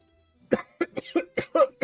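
A burst of several harsh coughs in quick succession, close and loud, following a moment of near silence.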